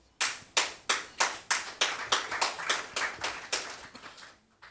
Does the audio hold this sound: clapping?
yes